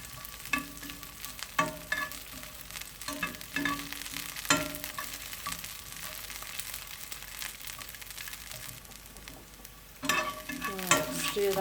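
Yams and leafy greens fry in a pan, sizzling steadily under irregular scraping and stirring strokes from a utensil, with clatter peaking every second or two; fairly quiet and close, with no talking.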